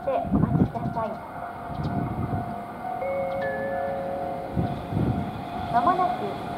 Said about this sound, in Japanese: まもなく下り列車が入ります。